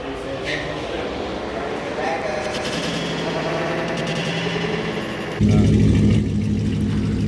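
A car with catless exhaust pipes revs in bursts, its engine rising and falling under nearby talking before settling into a louder, deep, steady drone near the end.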